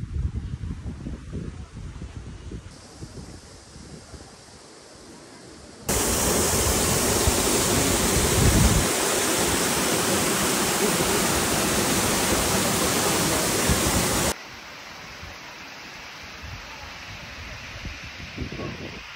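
Bear Waterfall in Turgen Gorge, Kazakhstan, roars as a loud, steady rush of falling water in the middle of the clip. Softer outdoor ambience and wind come before and after, and someone speaks at the start.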